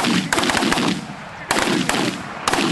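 Shotguns firing during a mallard duck hunt, several sharp blasts in irregular bursts with overlapping shots, loud and close outdoors.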